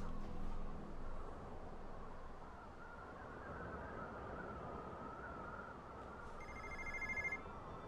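A telephone rings in the video game Tales from the Borderlands, a faint electronic trill heard near the end over a low, continuous rumbling ambience, with no voices.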